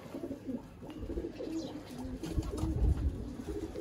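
A Sialkoti breeder pigeon coos steadily at close range, its low repeated calls carrying on across the whole stretch with no talk.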